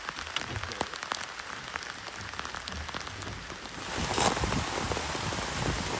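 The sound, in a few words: heavy rain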